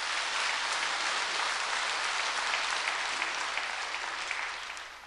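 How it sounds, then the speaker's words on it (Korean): A church congregation claps in a dense, even burst of applause that holds steady for several seconds before starting to fade, with no talking over it. "그래서 잘 돌아오시도록 한번 박수하세요."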